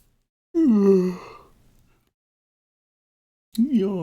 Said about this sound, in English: is yawning contagious through the internet?